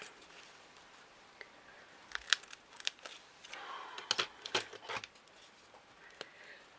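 Scissors snip in a quiet room: a handful of short, crisp cuts at irregular moments, fairly close, with faint rustling in between.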